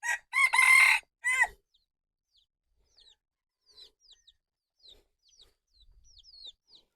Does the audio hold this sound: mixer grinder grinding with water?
no